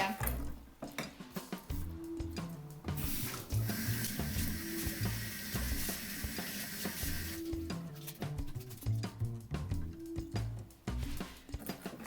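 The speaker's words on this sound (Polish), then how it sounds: "sobie odkrawam tą natkę i ją dokładnie myję" Parsley leaves being washed under a running kitchen tap at the sink, a steady broad water rush lasting several seconds with occasional clinks of dishes and wet handling sounds, close and fairly loud.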